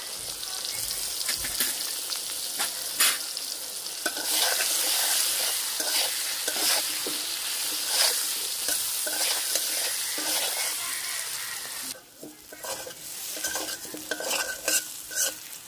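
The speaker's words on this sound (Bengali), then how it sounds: "আলু ভাজা হয়ে গেছে, তুলে নিন।" Potato pieces fry in hot oil while a utensil stirs and scrapes them around the pan, a continuous close sizzle broken by repeated metallic clinks and scraping strokes, with no talking.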